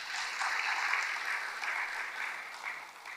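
A church congregation claps steadily for a few seconds, a dense, even wash of many hands heard from a little distance with no voices over it.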